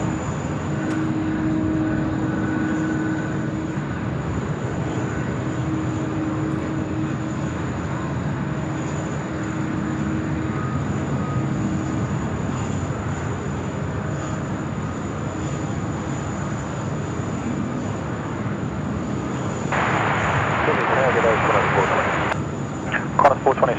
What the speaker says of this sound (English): we'll enjoy the aircraft as it comes into land here on runway 16 right